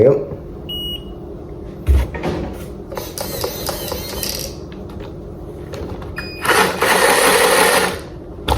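The electric motor of a Laegendary Grando RC car whirs in short, uneven bursts with small mechanical clicks between them, ending in a longer, louder high whine near the end, with a voice briefly heard close by.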